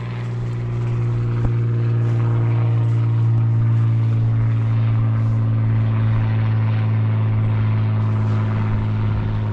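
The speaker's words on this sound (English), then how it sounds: "More planes." Propeller aircraft over the airport on St Mary's in the Isles of Scilly, a loud steady droning hum with strong low tones held for nearly ten seconds, nearby and with no talking.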